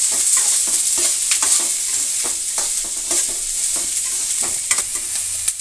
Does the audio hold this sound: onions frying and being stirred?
yes